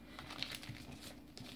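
Sheet of paper being folded in half for a flying pelican origami model, giving soft crinkles and rustles close up, with a couple of sharper creasing crackles and no speech.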